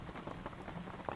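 Heavy rain pours steadily as a dense, even hiss with scattered patter of drops, close and continuous without a break.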